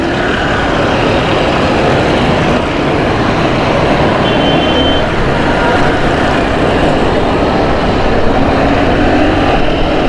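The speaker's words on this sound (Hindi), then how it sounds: "ये बस ख़राब हो गई है जिसकी वजह से" A road in Karachi is jammed with buses, one of them broken down, and a loud, steady roar of engines and traffic noise carries on without a break, dense and close.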